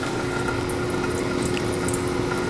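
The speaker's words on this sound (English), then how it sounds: "the coolant runs down, hits the dam, and starts to go over the side" Coolant pours steadily into the chip pan of a CNC lathe, a continuous close wash of running liquid with a faint underlying pump hum and no talk.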